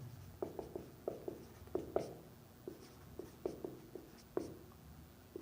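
Pen writing out a maths problem on paper, a quick run of faint scratchy strokes and taps in an uneven rhythm, close and quiet over low background hiss.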